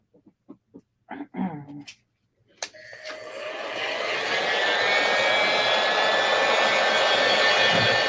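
A few short clicks and knocks come first, then a heat gun switches on beside a silver tray covered in foil and its whining blower rises into a loud, steady roar that holds to the end.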